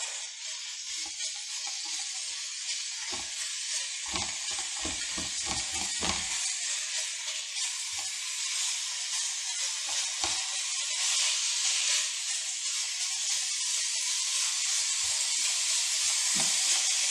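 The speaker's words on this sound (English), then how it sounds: "I'm going to break it up and brown it in the pan with the onion and garlic" Ground beef browns in a pan with onion and garlic, giving a steady loud sizzle and hiss throughout, broken by scattered scraping and clacking taps as the meat is broken up and stirred.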